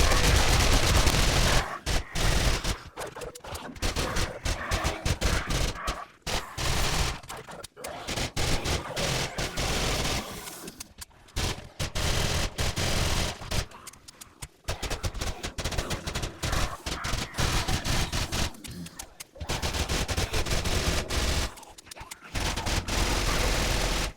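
Sustained SMG gunfire in the 7 Days To Die game, dense rapid bursts loud and near, broken by a few short gaps between volleys.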